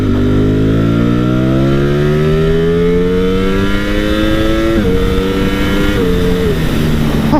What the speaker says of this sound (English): It just revs and revs and revs and revs.